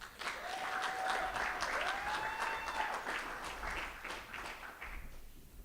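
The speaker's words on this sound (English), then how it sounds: "All right, let's give another round of applause to Candace." Applause at an annual meeting for an honoree, a crowd clapping steadily and fairly close for several seconds, with a few faint voices mixed in and the clapping thinning toward the end.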